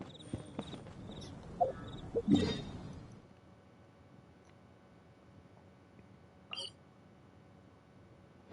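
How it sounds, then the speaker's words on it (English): A person hiccups a few times, in short, sharp bursts spaced seconds apart, over quiet background sounds from a Genshin Impact game. "Got hiccups, crap."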